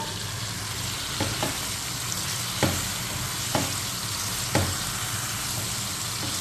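Meat masala with a spoonful of dry coriander sizzles and fries steadily in a pan on low heat, with a few sharp spoon scrapes and stirring knocks rising over the constant crackle.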